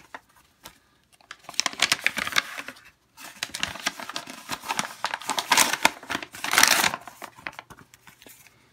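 Scissors slice into a plastic-wrapped eBay parcel holding a custom soft-goods cape, with close, crisp crinkling and snipping in irregular bursts that pause briefly before resuming.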